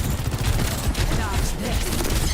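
Enemy turret firing in a video game, a dense continuous rattle of rapid shots layered over rumbling game noise, loud and unbroken throughout.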